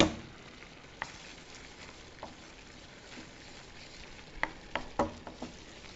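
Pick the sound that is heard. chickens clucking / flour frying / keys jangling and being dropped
flour frying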